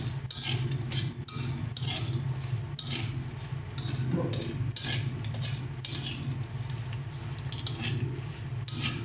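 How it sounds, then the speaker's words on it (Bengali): Lentil dumplings (bori) fry in oil left over from frying rohu fish heads, a steady crackling sizzle that runs throughout, with occasional light clinks of a utensil. "এবার এই তেলেই আমরা বড়িগুলো ভেজে নিচ্ছি"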